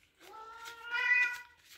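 A single cat meows clearly and close by in one drawn-out rising and falling call, set against near silence.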